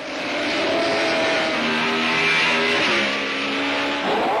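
A 1950s Formula 1 single-seater race car at speed, its engine a loud, steady, sustained roar with droning tonal harmonics that shift slightly in pitch across the stretch.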